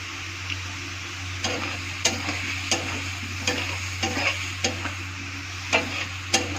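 Potatoes with turmeric powder stirred and frying in a pan: a steady, close sizzle over a low hum, broken by about a dozen sharp scrapes and clicks of the spoon at an uneven pace, with no voices.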